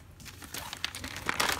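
A plastic bag crinkles and rustles softly up close while a Barbie doll is put inside it, a short series of crisp crackles that grow slightly louder toward the end.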